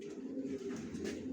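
Racing pigeon squabs, a young male and female pair, coo softly and steadily in a low, continuous murmur with no talk over it.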